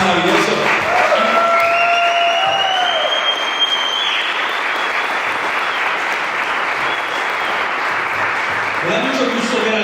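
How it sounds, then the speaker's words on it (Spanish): A church congregation applauds loudly and steadily through a service, with scattered whistles and voices rising above the sustained clapping before it begins to thin out. "le den un fuerte aplauso a Jesús"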